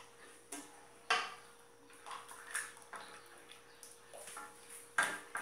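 A pot of cornmeal (fubá) cooked in boiled milk with sugar and salt for angu is stirred quickly, giving faint, scattered scrapes and light clinks of the spoon against the pot at an uneven pace.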